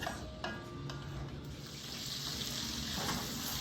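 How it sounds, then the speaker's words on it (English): Kielbasa browning in a pan, a steady close sizzle and hiss of frying with a few light clinks of a utensil against the pan. "I have browned my kielbasa just a bit"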